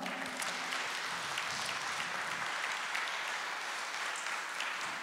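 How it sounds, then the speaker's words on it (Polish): Warm, dense applause from the audience at a Christmas carol concert in Poland, clapping steadily and evenly for several seconds, heard from some distance in the hall. "Wielkie brawa, drodzy państwo!"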